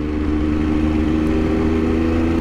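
A motorcycle engine runs steadily at close range for the whole stretch, a low continuous drone with a faint mid-range hum and no talking.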